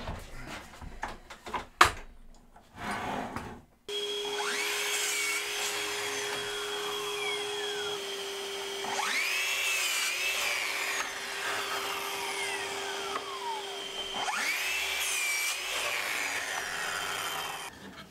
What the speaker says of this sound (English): So I need to cut these down to two different lengths.